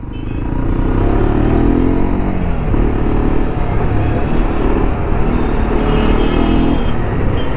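A Hero Xpulse 210 motorcycle accelerates along a road, its engine note climbing in loud, rising pulls with a gear change midway, heard from on board amid road noise.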